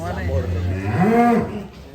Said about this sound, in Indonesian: termasuk sapi kembang telon